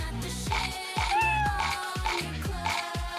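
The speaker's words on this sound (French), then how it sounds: "Oh, le petit chat veut nous aider." A small cat meows repeatedly and insistently close by, several rising cries in quick succession, one drawn out into a wavering whine, with no talking over it.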